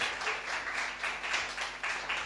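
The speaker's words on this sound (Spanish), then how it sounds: "Dale un aplauso al que vive entonces." A church congregation gives a brief round of applause during a sermon, a soft, fairly distant wash of clapping in gentle pulses, with faint voices underneath.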